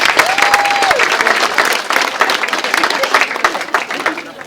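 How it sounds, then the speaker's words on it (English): Guests at a wedding reception give a round of applause, loud, close clapping from a crowd with individual claps standing out, a brief tone in the first second, and the clapping thinning slightly toward the end. "I think we'll give them a round of applause"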